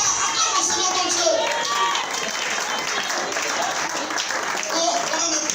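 A church congregation claps and cheers to acclaim God, sustained applause from a crowd with scattered voices and shouts mixed in throughout.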